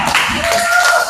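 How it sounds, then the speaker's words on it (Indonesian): Students in a classroom clap for a presenting group, a short burst of close, dense applause with mixed taps and thuds from several hands. "Tepuk tangan untuk kelompok"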